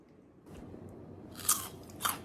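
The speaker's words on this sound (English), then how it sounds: "When you just eat it raw, like in a salad, it's very crisp." Crisp raw chayote squash is bitten and chewed up close, giving two sharp, wet crunches over a quiet background.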